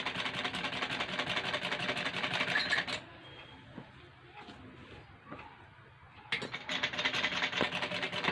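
A sewing machine stitches a curved neckline between buckram and fabric, running in fast rattling bursts, pausing in the middle for a few seconds of quieter handling before starting again, close and loud.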